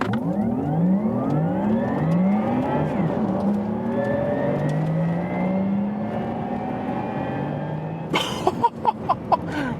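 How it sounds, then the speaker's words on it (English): A Porsche Taycan GTS electric car does a launch-control start uphill on a racetrack in Sport Plus mode, its loud rising electric whine climbing steadily in pitch for about eight seconds, then cutting off into a few sharp knocks. "It was a launch control uphill."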